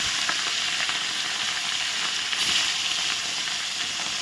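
Pieces of katla fish go back into a hot pan and sizzle, a loud, continuous frying hiss with faint scraping and a brief surge partway through; no talking.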